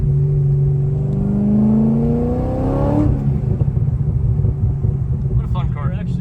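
A Chevrolet Corvette C6 Z06 tuned by Vengeance Racing revs hard with a rising engine howl, then drops back to a rumbling idle with clattery mechanical noise.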